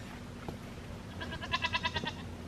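Goats bleat in a goat barn, a faint quick series of about six wavering, pulsing bleats following a few soft knocks and a steady low hum.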